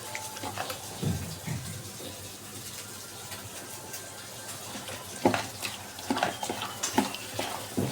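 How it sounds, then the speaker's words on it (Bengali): Fish marinated with lemon and turmeric frying in a pan, a soft steady sizzle with occasional louder crackles and utensil clinks, heard close and alone without talk. "আবার লেবু দিয়ে হলুদ দিয়ে মাখাই আবার ভাজতেছি"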